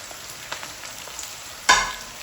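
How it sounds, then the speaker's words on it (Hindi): Okra tossed into a hot pan for dhaba-style masala bhindi bursts into a loud, sudden sizzle after a quiet stretch, the frying hiss staying strong and close. "अब भिंडी डाल देंगे।"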